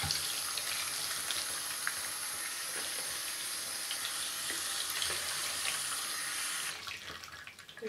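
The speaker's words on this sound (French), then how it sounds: "Donc je rince le gant." Tap water runs steadily into a sink as a brush-cleaning glove is rinsed, a continuous hissing splash close by that drops off abruptly near the end, leaving a softer trickle.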